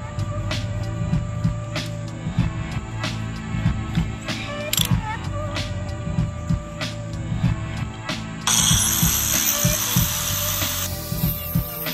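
A power tool cuts about an inch off the end of a metal pipe for a motorcycle seat bracket, a steady grinding whine with repeated clicks that turns into a louder, harsher cutting roar near the end.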